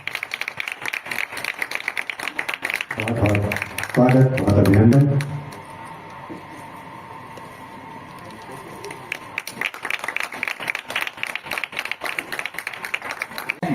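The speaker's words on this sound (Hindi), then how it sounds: "आप लोग के तालियों की आवाज" An audience at a district sculpture and art workshop event in Darbhanga claps steadily, crisp scattered applause at the start and again at the end, while someone speaks a welcome in the middle.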